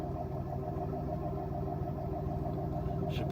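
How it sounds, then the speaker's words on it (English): A 1990-1992 Oldsmobile Toronado Trofeo idles on a cold day, its exhaust giving a steady, low, mellow rumble with an even pulsing beat that holds unchanged throughout. "We'll listen to the exhaust."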